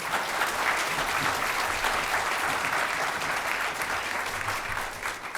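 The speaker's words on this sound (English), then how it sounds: "Let's give them another round of applause." A large audience at an awards ceremony claps continuously, a dense, even roar of applause that holds steady for several seconds.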